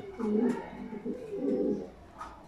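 A pigeon from the BRPFC club coos in soft, low, rolling phrases, close by, with people talking over and between the calls.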